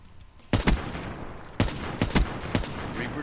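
Semi-automatic sniper rifle fire in Call of Duty Blackout: six sharp, loud shots in uneven pairs and singles over a few seconds, each with a short echoing tail, no talking.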